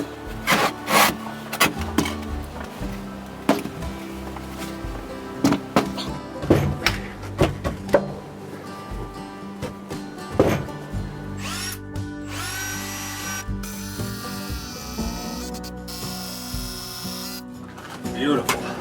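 A power drill drives long screws into wood while building a table at an off-grid cabin, with repeated close bursts of whirring and knocks and handling between them, and a longer high-pitched run near the end.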